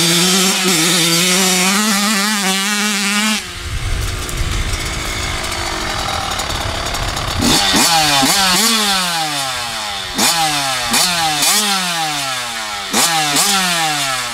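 A Kawasaki KX85 dirt bike engine during enduro riding rises and falls in loud, rapid revving bursts, with a rough stretch of engine noise in between and repeated throttle blips toward the end.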